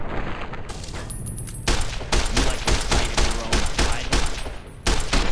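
Rapid bursts of gunfire from the Fallout New Equestria video game, loud and dense, with repeated sharp shots in quick succession after a quieter opening.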